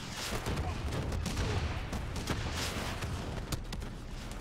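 Dense, continuous gunfire and explosions from the video game Call of Duty: Black Ops 3, loud and close throughout with rapid overlapping shots and booms.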